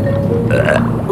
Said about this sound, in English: let out a nice big burp